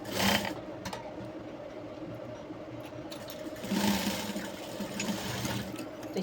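A sewing machine stitches a jumpsuit seam, its steady rattling hum running continuously at close range with a brief louder surge near the start and again midway.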